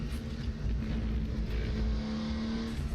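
A Porsche 934 RSR Turbo engine in the RaceRoom racing game roars steadily at high revs at Spa, loud and close, with a constant droning tone and no speech.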